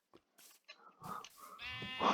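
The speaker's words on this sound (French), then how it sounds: "Ah, c'est un mouton." A sheep in the Minecraft video game lets out short bleats, quiet and close, broken up by small clicks and ending in a fuller, drawn-out bleat.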